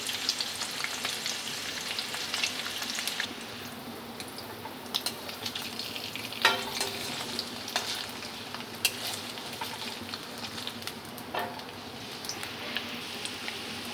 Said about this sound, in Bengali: কড়াইতে সর্ষের তেল দিয়ে দিয়েছি। পনিরগুলো আমি একটু ভেজে নেব।